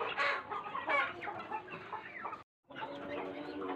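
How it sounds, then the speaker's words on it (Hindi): Several chickens clucking busily up close while eating rice, with overlapping calls and a brief silent gap near the end. "मैं मुर्गियों को जो चावल वगैरह लेकर आया हूँ वो भी डाल दूँ। सभी शौक से खा रहे हैं"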